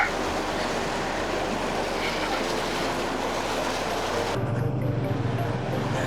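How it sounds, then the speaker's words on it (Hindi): Fast-flowing river water rushing in a steady, loud roar close by, on a rainy mountain route from Phandar to Gilgit, with a low rumble changing near the end. "पानी का बहाव बहुत ज़्यादा है।"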